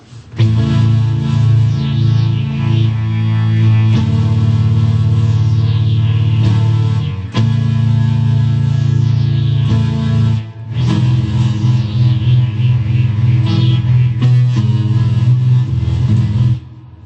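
Sustained chords from a Boss SY-200 guitar synthesizer pedal, reverb off, ring out thick and droning with a dry, close sound, shifting through several long held notes with brief gaps between.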